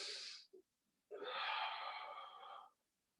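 A person breathing hard during a stretch-and-strength exercise class: a short sharp exhale, a brief catch of breath, then a long audible breath out, close and fairly quiet, with no talking.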